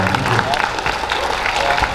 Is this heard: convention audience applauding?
yes